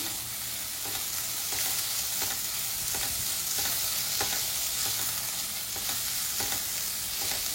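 Pieces of jackfruit fry in ghee in a pan for a Kerala-style jackfruit kheer, giving a soft, continuous sizzle with faint periodic scrapes of stirring, steady and unvoiced.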